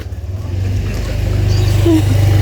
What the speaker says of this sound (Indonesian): minggir minggir ada motor ayo minggir